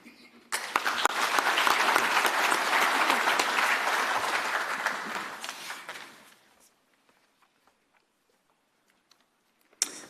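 Audience applause at an industry and stakeholder engagement forum, a dense burst of clapping that swells quickly, holds for about five seconds, then fades out, leaving near silence with a few faint ticks and one last clap at the end.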